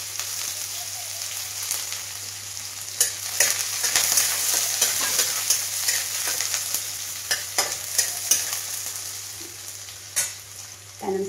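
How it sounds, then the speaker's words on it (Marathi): Onion for tempering fries in a kadai with cumin and mustard seeds, giving a steady close sizzle with scattered crackles and spatula stirring, and no talk. "आणि हा कांदा फोडणीसाठी."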